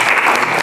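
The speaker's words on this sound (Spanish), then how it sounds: "Muchas gracias, un aplauso." An audience at a civic forum on the September 19 earthquake breaks into brief, dense applause, a short loud burst of many hands clapping.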